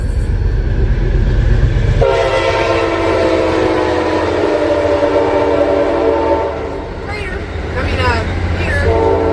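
A train rumbles past close by, wheels clattering, with a long horn blast sounding over the noise; a voice speaks briefly near the end.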